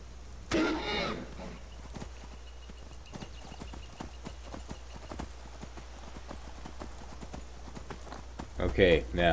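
Horse hooves clip-clopping steadily in the video game Skyrim, a rhythmic series of soft clops running under the game's ambience, with brief louder bursts of other sound at the start and end.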